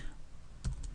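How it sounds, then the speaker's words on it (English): Keys clack on a computer keyboard in a brief cluster of two or three quick taps, close and moderately loud over a low room hum. "I'm going to type in Monday"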